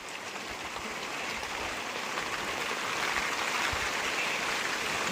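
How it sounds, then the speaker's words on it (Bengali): Rain with large drops falls as a steady, even hiss of heavy drops landing outdoors at a home, with no other sounds. "বৃষ্টি পড়া শুরু হয়ে গেছে"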